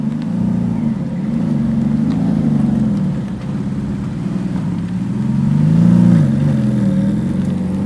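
A Nissan R33 passes with its engine note rising and falling, a steady mid-pitched drone that swells toward the end, with no voices.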